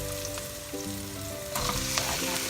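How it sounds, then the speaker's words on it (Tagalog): Pork meat sizzling with sautéed onion and garlic in a pan, a steady, close crackling fry over background music, no voices. "So next is we're going to add our pork meat"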